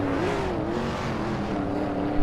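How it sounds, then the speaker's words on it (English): Hot Wheels race car in a video game, its engine holding a steady, loud, close drone as it accelerates and pitches up slightly, with no other sounds over it. "the acceleration on this car is ludicrous."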